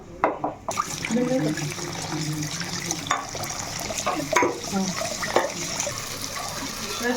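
Rice is washed under running tap water in a pot, with close splashing, sloshing and swirling as grains are stirred by hand, broken by occasional light knocks against the vessel.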